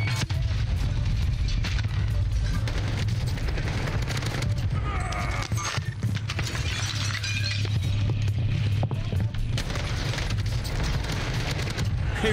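A frag grenade explosion in Call of Duty Warzone, set among loud battlefield noise with bursts of gunfire and booms, heavy low rumble throughout and no clear single isolated blast.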